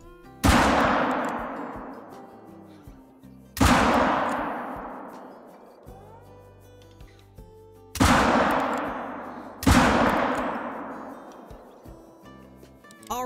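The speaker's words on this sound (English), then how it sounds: "3 shots on that pronghorn and it did pretty much nothing." Four loud handgun shots fired at a pronghorn while hunting in Call of the Wild, each a sharp crack with a long ringing decay, spaced a few seconds apart.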